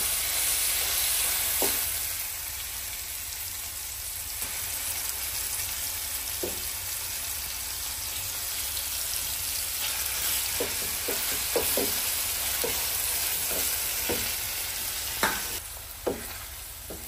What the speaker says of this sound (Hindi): तड़का लग रहा है साग को